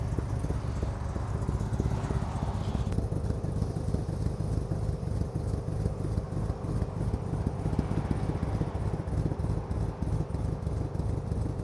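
Air suspension on an HSV VF GTS, a KS Racing Lite rear kit, lowering the car, giving a steady loud mechanical whirring and rattling hiss that runs without a break, with a brief shift partway through.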